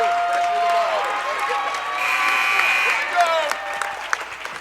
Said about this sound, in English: West Rutland fans giving their team a nice cheer here. Round of applause